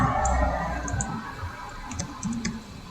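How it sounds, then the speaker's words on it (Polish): Quick, sharp clicks from a handheld device, a few scattered taps over a steady low rumble of background noise. "przepraszam, że tak głośno to klika"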